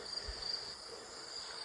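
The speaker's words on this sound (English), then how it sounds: "You can hear the crickets." Crickets chirping steadily in a nature recording from the Daily Calm meditation app, a soft continuous trilling with a faint low hum underneath.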